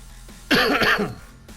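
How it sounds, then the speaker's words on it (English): A single harsh cough, close and loud, bursts out briefly and fades into a quiet room. "I don't know why I'm coughing so much"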